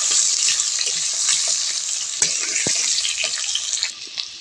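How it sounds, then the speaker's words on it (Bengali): Thick-cut potatoes sizzle in oil left over from frying fish, a bright, continuous hiss up close with scattered pops and the occasional scrape of a stirring spoon. "আলুটা আমি ভালো করে ভেজে নেব"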